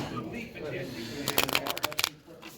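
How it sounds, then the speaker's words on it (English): A deck of game cards for the Unmatched board game, Achilles versus Bloody Mary, is riffled in a quick run of crisp, close flutters after a stretch of room noise and talk. "shuffle up and play"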